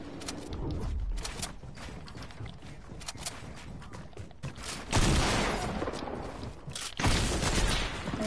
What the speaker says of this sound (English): I have a stupid double barrel shotgun